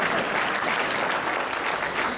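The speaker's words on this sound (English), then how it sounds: "Please clap for him." Audience applause at a basketball awards ceremony, a steady dense wash of clapping from a crowded hall, continuous and even for a couple of seconds with no talking.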